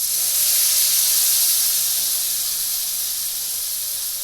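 Ginger and spice paste fry in a pan for kakrol curry with a loud, continuous, bright hiss and steady sizzle that tapers slightly toward the end, alone.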